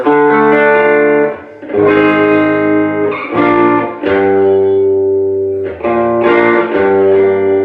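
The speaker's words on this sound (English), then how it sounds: "it sounds like this fucked up tritone chord" An overdriven electric guitar strikes a tense, tritone-like chord after modulating back to G, played as a few loud, sustained strums separated by short breaks and heard alone.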